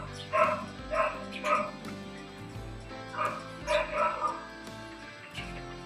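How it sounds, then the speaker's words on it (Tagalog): A husky barking in a loose series of sharp, fairly close woofs and yips, clustered in two bursts with brief pauses between them, with a low background rumble. "asong husky"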